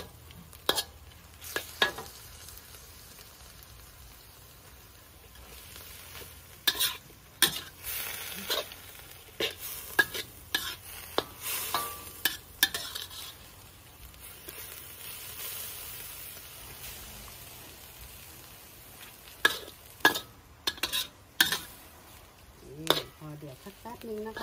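Shrimp stir-frying in a pan for a stink bean and shrimp dish, with repeated sharp scrapes and clatters of a spatula over a soft, continuous sizzle; the strokes come in irregular bursts.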